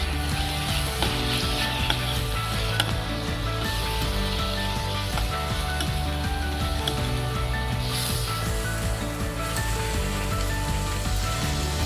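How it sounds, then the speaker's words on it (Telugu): Onions and tomato paste fry in a pan with a loud, steady sizzle and crackle that runs unbroken from start to finish, close and alone with no voices. "అది బాగా కలిపిన తర్వాత బాగా వేగాలి."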